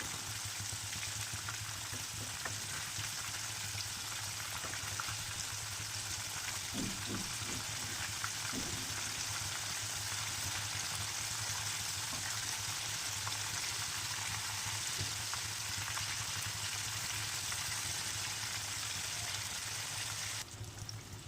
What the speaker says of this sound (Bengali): মাছের এক পিঠ ভাজা হয়ে গেলে আর এক পিঠ ভেজে নেওয়ার জন্য মাছগুলোকে উল্টিয়ে দেব।